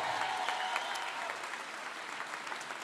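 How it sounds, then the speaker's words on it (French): Crowd applause at a counter-election night event at La Cigale, a continuous distant-sounding patter of many people clapping, fairly quiet and steady throughout with no talk over it. "on peut les applaudir aussi"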